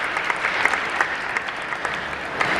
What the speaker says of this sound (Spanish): También les pido un fuerte aplauso.